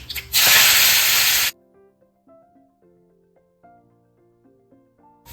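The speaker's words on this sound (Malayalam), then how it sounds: "ഞാൻ കടുക് ഇറക്കാം വെളിച്ചെണ്ണ ഒരൊന്നര ടേബിൾ സ്പൂൺ വെളിച്ചെണ്ണ കാൽ ടീസ്പൂൺ കടുക് ഉണക്കമുളക് കറിവേപ്പില ചെറിയ ഉള്ളി" Mustard seeds, dried chilli and curry leaves hit hot coconut oil in a loud, brief sizzling burst that stops abruptly, followed by quiet soft tones.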